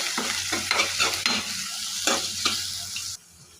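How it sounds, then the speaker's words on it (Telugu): Urad dal, cumin, dried red chillies, curry leaves and onion frying in hot oil, a loud close sizzle broken by rhythmic scraping stirs that stop abruptly near the end. "ఆయిల్ కాగాక మినపప్పు, జీలకర్ర, ఎండుమిర్చి, కరివేపాకు ఇవన్నీ వేసుకొని వేపుకోవాలి."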